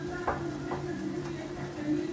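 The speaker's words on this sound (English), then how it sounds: "croutons cooking away nicely" Steady, soft sizzling of croutons frying in a pan, with a few light scrapes and taps of stirring over the continuous crackle.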